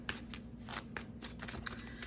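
Tarot cards being shuffled during a Sagittarius financial reading, a series of soft papery riffles and slaps repeating about every quarter second, close and fairly quiet over a low steady hum.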